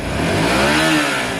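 Tweed Twin 125 motorcycle engine revved hard toward the red line, a loud, sustained high-pitched wail that holds near the top before easing slightly, close and unaccompanied.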